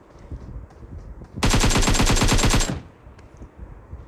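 Rapid automatic gunfire in a shooter video game, one loud sustained burst of evenly spaced shots lasting just over a second, close and prominent against a quiet background.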